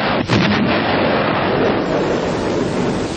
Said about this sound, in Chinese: 不，用快炮射击，打沉他。